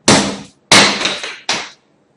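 Three sharp, loud impacts ring out one after another as a hammer and a light leaf are dropped onto a floor, each hit decaying quickly, with no talking.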